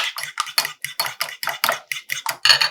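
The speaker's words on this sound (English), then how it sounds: "Now I'm going to add 1/2 cup of heavy whipping cream. And I'm just going to whisk that around" Heavy whipping cream is whisked in a bowl, a brisk series of about ten sharp, rhythmic clicking strokes of the whisk close up, loud and even, with no voices.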